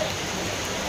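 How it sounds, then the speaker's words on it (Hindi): Heavy rain pours steadily on an evening street near a market, a dense, unbroken hiss of close, loud drops filling the whole moment with no voices over it. "बारिश आ गई भाई बहुत तेज।"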